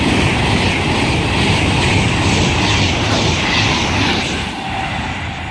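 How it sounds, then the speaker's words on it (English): Virgin Pendolino eleven-car train on the West Coast Main Line at Hartford, bound from London Euston to Liverpool Lime Street, passing close and loud as a dense continuous roar that eases slightly at the end. "the next train approaching is going to be another Virgin Pendolino from London Euston to Liverpool Lime Street"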